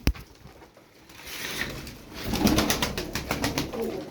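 Iraqi feather-footed tumbler pigeons cooing close by, soft rolling coos that swell and continue in repeated pulses across the short stretch.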